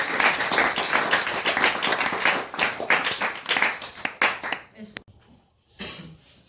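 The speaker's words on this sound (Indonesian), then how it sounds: "tepuk tangan teman-teman" A group of friends clapping hands in applause during an evening community-service learning session, brisk sharp claps for several seconds that thin out and stop, followed by a near-quiet pause and a soft voice.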